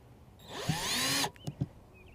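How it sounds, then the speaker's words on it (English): A power drill whirs briefly for under a second, then stops, followed by a couple of soft knocks, close by with no talking, while fitting a fishfinder network on a Champion 198 boat. "So, take the drill here."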